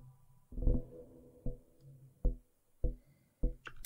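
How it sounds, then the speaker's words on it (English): Oscillator B of a synth sounding by itself, held at a fixed E, gives darker, buzzier low pulses in a steady repeating rhythm, each hit swelling then fading, fairly quiet with a faint background hum and no speech. "And so oscillator B alone sounds like this."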